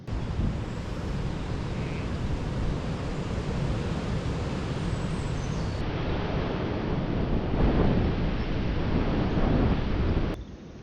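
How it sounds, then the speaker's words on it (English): Loud, constant wind roars and buffets the microphone during a storm at a wild camp beside a forest stream, a dense, unbroken rush filling the whole stretch before cutting off at the end. "the wind is just so loud at the minute."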